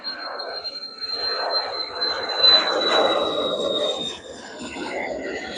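Airliner taking off at Manchester Airport, a steady roaring jet engine with a high whine, swelling to a peak in the middle then easing as it climbs away, heard from some distance.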